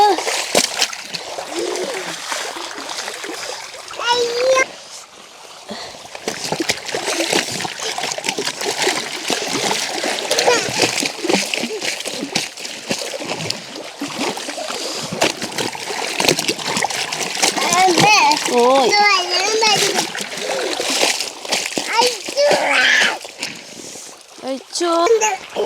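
Children splash and slosh in water near a waterfall, with lively kids' voices and chatter running over the continuous splashing and trickling throughout.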